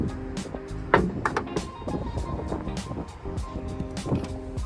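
The front trunk lid of a gray 2023 Tesla Model 3 is shut with a single solid thump close by, followed by low outdoor background noise.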